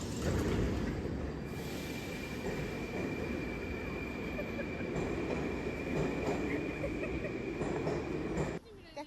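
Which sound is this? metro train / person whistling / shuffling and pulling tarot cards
metro train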